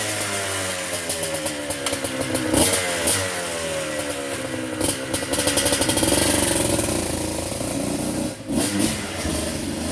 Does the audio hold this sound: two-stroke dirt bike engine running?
yes